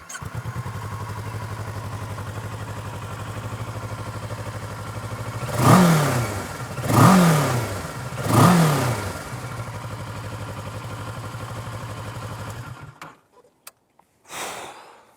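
A Kawasaki Versys 650 motorcycle idles steadily close by, then three sharp revs rise and fall in quick succession before the engine cuts off, leaving near silence with a couple of faint knocks.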